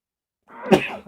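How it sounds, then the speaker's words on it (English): A single sharp sneeze, close and fairly loud, with a short breathy intake leading into the burst and a brief trailing tail. "I do apologise for the sneeze, I tried to stop it"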